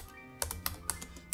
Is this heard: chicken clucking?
no